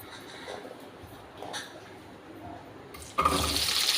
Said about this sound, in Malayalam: നമുക്ക് കുറച്ച് വെളിച്ചെണ്ണ ഉണ്ട് ഒഴിച്ച് കൊടുക്കാം